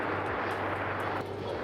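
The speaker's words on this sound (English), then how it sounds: "our first departure for this hour is United Express 5696 departing to Reno. It's an Embraer E175LL." A United Express Embraer E175 jet on its takeoff run, a sustained loud engine roar with a low droning hum underneath, steady and close.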